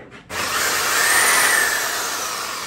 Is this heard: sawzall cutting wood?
yes